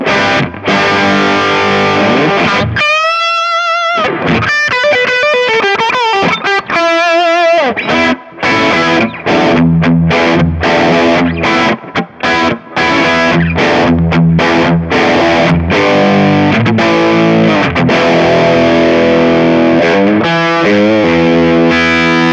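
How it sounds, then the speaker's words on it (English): Electric guitar driven through a green-screen-style distortion pedal set to drive 5 and tone 5, placed ahead of a booster in a Kemper profiler; loud, smooth overdriven chords and single-note phrases ring continuously with brief pauses, no talking. "am going to throw in a distortion pedal in front of the booster"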